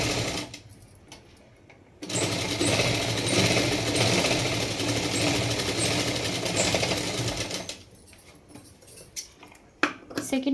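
An electric sewing machine stitches a double katori blouse. A loud, steady mechanical whir runs for about six seconds, then stops, leaving quieter handling noises.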